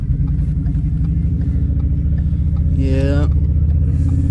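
A Ford truck idles roughly with its number 6 and 7 cylinders dead, a loud, close, lumpy low rumble with an uneven pulse, joined briefly near the end by a voice.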